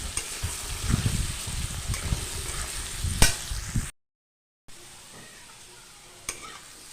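Potatoes frying in oil with turmeric, a steady crackling sizzle for about four seconds, then a short silent gap and a quieter, softer sizzle with an occasional stir.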